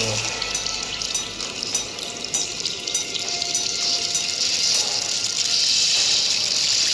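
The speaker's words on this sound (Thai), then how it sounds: "ได้ยินเสียงน้ำอยู่น้ำไหลอยู่" Water in a video game flows and gushes continuously with a steady hiss, fairly close, with no talking.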